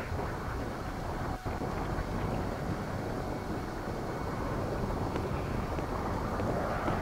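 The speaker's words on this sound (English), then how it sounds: "Wind." Steady wind blows through a level of the video game Tomb Raider: Angel of Darkness, a broad continuous rushing that holds an even loudness throughout with no talking.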